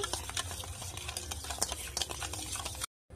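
Sugar and salt are mixed into a soft batter-like mixture by hand for curd-soaked lentil dumplings (doi bora), giving a steady close squelching, sticky stirring sound before an abrupt cut.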